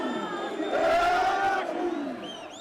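A crowd gathers around a political candidate, a former governor, with a steady mass of voices and some raised cries swelling through the middle before easing off.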